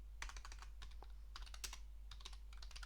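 Quiet keyboard typing in short bursts of clicky keystrokes, with brief pauses between runs, close by over a low electrical hum.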